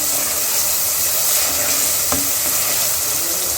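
Chili flakes, black pepper and paprika sizzle steadily in hot oil in a pan, a loud continuous frying hiss with a brief stirring scrape midway and no talking.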